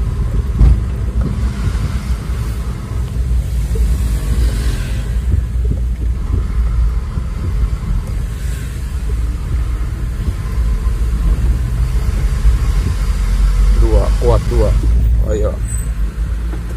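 A medium bus travelling a rural backroad between Sukabumi and southern Cianjur, with a steady low engine and road rumble throughout, loud and close from inside the cabin, with brief talk in the background.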